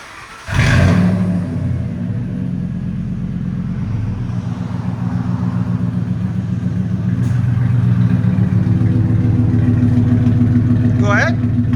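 From inside the cab of a 1999–2004 Ford F-150 SuperCrew with a 4.6L V8 and aftermarket exhaust, a deep, loud, steady rumble fills the space, starting with a brief surge and then settling into a continuous drone.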